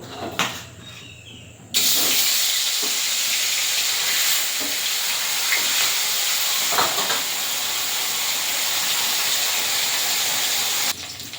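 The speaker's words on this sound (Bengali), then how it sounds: "কড়াইটা গরম হয়ে গেছে, এবারে মাছগুলো ভেজে নেব।" Steady, loud hissing sizzle of fish frying in hot oil in a wok, starting abruptly after a brief quiet moment and continuing evenly until cutting off near the end.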